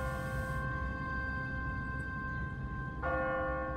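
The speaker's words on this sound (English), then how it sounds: "What kind of church bell goes off at 20 past the hour?" An automatic church bell on a timer rings in The Walking Dead video game, its sustained metallic tone humming throughout, with a fresh strike near the end over a low ambient rumble and no speech.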